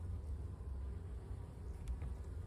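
Honey bees buzz steadily at close range during a spring hive inspection, a dense continuous drone with a few brief louder passes as individual bees fly near.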